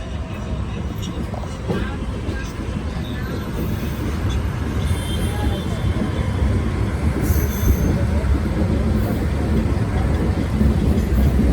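The 12688 Chandigarh–Madurai superfast express pulls out of Ghaziabad, heard from inside as a loud, continuous low rumble of wheels on rails that builds steadily, with faint rattles overhead.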